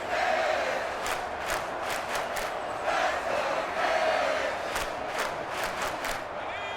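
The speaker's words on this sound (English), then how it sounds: "the crowd getting into it as we come up on a big 3rd down" Stadium crowd in a Madden NFL game, Texans vs. Dolphins, roars steadily ahead of a big third down, with repeated swelling bursts of cheering and shouting throughout.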